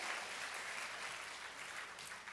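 Congregation at a Korean church prayer meeting applauding, a steady dense wash of clapping that stays level and fairly soft throughout with no clear voices on top.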